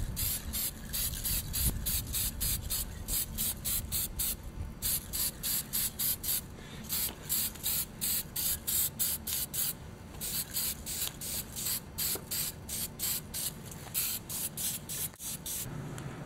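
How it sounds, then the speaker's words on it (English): Spray can hissing gray primer onto Saturn V model rocket parts, a long run of short rhythmic bursts with brief pauses, steady and close with no talking. "I'll first start painting these with some gray primer."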